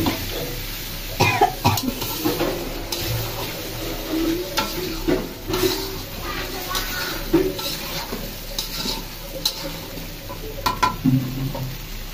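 Potatoes go into chicken frying in a pan, with soft sizzling, stirring and scraping of a utensil against the pot, plus scattered clinks and a few coughs over about twelve seconds.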